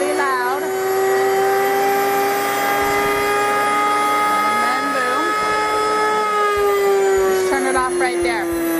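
A Nutrimill grain mill grinding flour gives a loud, steady high-pitched mechanical whine that holds throughout and rises slightly in pitch as it revs up, with bursts of talking over it.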